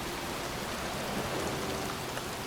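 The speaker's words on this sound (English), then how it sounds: "It's cold. It's raining. I'm standing outside getting soaked." Steady rain pours in the video game Heavy Rain, a dense, even hiss of drops on surfaces that holds at the same level throughout with no voices.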